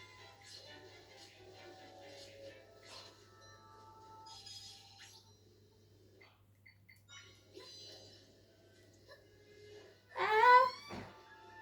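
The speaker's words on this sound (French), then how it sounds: "Oh, les cris, c'est fabuleux." Game-character cries and wails from Zelda: Echoes of Wisdom, faint tonal moans and whimpers over a low hum, ending in a louder rising shriek near the end.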